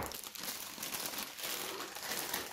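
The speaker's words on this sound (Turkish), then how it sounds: "Şöyle solu da paketinden çıkartalım." Crinkling plastic packaging as an HTC Vive Cosmos VR controller is unwrapped, a steady close rustle and crumple lasting a couple of seconds.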